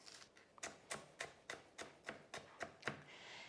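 A knife slices a jalapeno into small pieces on a cutting board, about ten quiet, evenly spaced chopping taps, close and faint with no talk.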